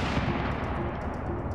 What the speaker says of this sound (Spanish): En honor al vigésimo primer presidente, se dispararon 21 cañonazos.